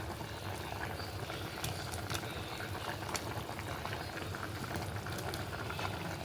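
A pot of sambar simmers and boils steadily, mango pieces added, with a dense, continuous bubbling and gurgling at constant loudness. No voices are heard.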